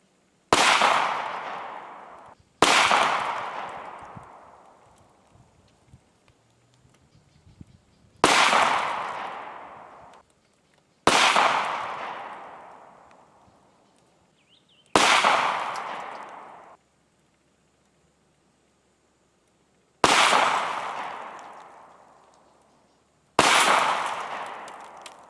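Seven sharp, loud gunshots from a Ruger MAX 9 handgun fired into computers, spaced a few seconds apart, each with a long ringing decay outdoors.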